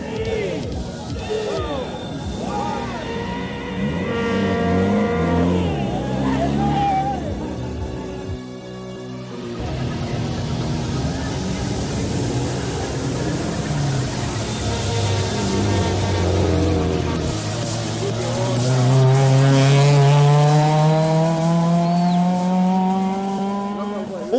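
Rally cars at the 2015 KCB Kisumu Rally in Kenya roar past with revving engines, shifting pitch and tire noise amid a crowd of fans, loud and continuous throughout.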